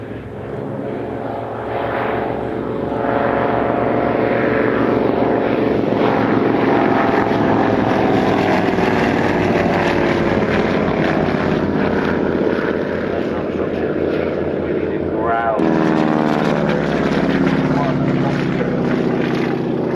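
An Avro Anson propeller aircraft flies at Old Warden, its piston engines droning loudly and steadily with a shift in pitch as it passes. Someone narrates over the engine noise.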